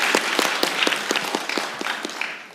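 Scattered, fairly close hand claps from a small audience at a government report meeting on future technology greet a Seoul science high school student who won International Mathematical Olympiad gold, a brief irregular burst of applause.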